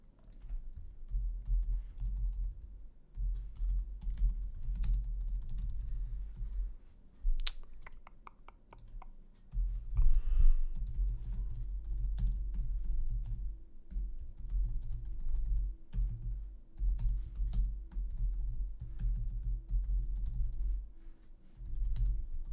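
Rapid, irregular clatter of keys on a computer keyboard, close to the microphone, in bursts with short pauses, with occasional heavier keystrokes and no talk.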